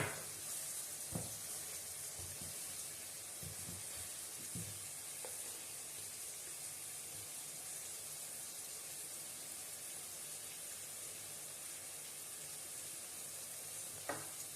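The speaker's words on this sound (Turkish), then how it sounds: "Kavurmaya devam edeceğim." Minced meat fries in about three spoons of sunflower oil with a constant close sizzle, punctuated early by a few scraping stir knocks, then a long even crackle with no voices.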